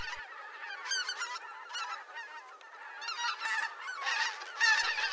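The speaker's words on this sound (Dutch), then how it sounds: "Koolganzen broeden op de tundra's van Siberië en keren elke winter naar hun vaste plaatsen terug om te overwinteren in Nederland." Barnacle geese wintering in the Dutch Alblasserwaard honk continuously in a noisy flock, with many overlapping calls rising and falling and several close, louder bursts toward the end.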